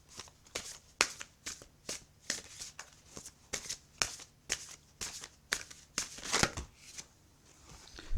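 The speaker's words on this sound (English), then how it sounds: "let's pull a Spirit of the Animals Oracle card for your second half of the year" A Spirit of the Animals oracle deck is shuffled by hand, with crisp papery riffles repeating about twice a second, close and clear, over a quiet background.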